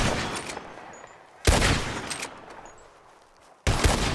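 Gunfire from a bottle-shooting contest in the video game Red Dead Redemption 2: three sharp, loud shots at uneven intervals, each followed by a decaying echo.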